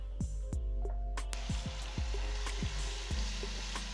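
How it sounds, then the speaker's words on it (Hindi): Onion paste sizzles steadily in hot refined oil, a continuous bright hiss with repeated soft knocks of a spoon stirring the pan. "धीरे धीरे इसको चलाते हुए गोल्डन ब्राउन कलर आने तक इसको हम फ्राई करेंगे"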